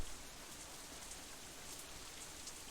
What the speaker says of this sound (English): the combined noise of the wind and the rain